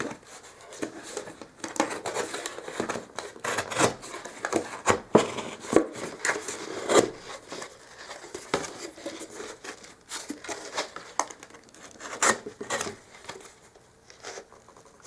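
Scissors snip and crinkle through the bottom of a plastic tub, with irregular close cutting, crackling and tearing sounds running steadily throughout, no speech over them.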